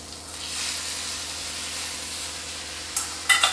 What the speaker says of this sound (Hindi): मिलाने के बाद मैं इसमें डालूंगी अब टमाटर।